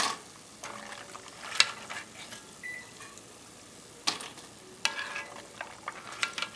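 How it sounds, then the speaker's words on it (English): Homemade corn tortilla chips frying in oil, with a soft sizzle and crackling bursts plus occasional stirring clatter, faint and close with no talking. "once it stops bubbling around, we know that there is not much moisture in it, and you can hear how crispy it is"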